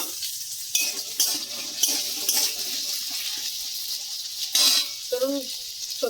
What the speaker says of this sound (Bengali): এবার আলু আর পেঁপেটা ভেজে নেবো ভালো করে